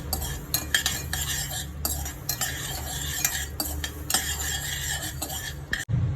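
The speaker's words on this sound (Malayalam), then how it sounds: "1 ടേബിൾ സ്പൂൺ ഉലുവ ഇട്ടിട്ടുണ്ട്. അത് നന്നായിട്ടൊന്ന് വറുത്തെടുക്കാം." Fenugreek seeds dry-roast in a pan for mango pickle. A spoon stirs them without pause, and its close scraping and rattling repeat in an uneven rhythm.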